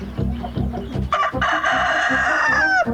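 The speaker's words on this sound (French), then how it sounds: "il chante bien le coq" A rooster crows once loudly and close, a long drawn-out call rising over rhythmic clucking and pecking sounds from nearby fowl.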